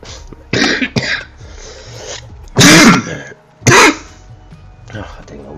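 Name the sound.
coughing and throat clearing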